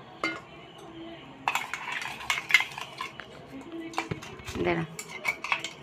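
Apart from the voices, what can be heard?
stirring spice mix with water and milk in a bowl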